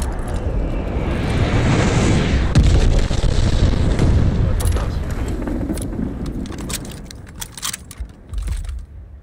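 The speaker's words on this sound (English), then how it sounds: "Enemy glide bomb incoming." An enemy glide bomb explodes in Call of Duty: Vanguard, a loud, heavy rumbling blast that swells and slowly fades, followed by scattered sharp rattles and clinks of debris.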